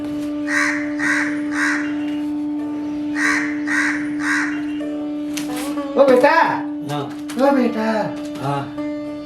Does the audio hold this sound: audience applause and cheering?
no